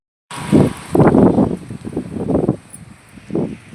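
Gusts of strong wind from a dust storm buffet the microphone in irregular low rumbling bursts, rising and falling over a faint steady background hiss.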